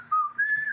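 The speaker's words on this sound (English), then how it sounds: "We're just whistling." A brief two-note whistle, clear and close, the second note slightly higher and held a little longer.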